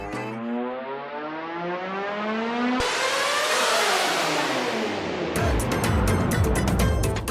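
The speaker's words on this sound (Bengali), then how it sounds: "দেখ আবার বিএমডব্লিউ লই আইছে।" A BMW car pulls up in a drama scene, its engine revving loudly with pitch climbing in repeated sweeps, then settling into a broad roar with a few sharp clicks near the end, and no talking over it.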